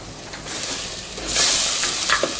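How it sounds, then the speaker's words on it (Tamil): Ginger garlic paste sautés in oil in a pan for mint rice, a soft continuous sizzle with a louder hiss burst midway and light stirring scrapes. "பேஸ்ட் போட்டது ஒரு 2 நிமிஷம் வதங்கட்டும்"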